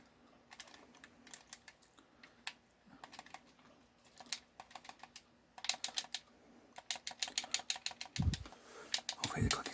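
Rapid keyboard and mouse clicking while playing the Star Wars Episode III video game, bursts of crisp close clicks in quick runs with a couple of low thumps near the end.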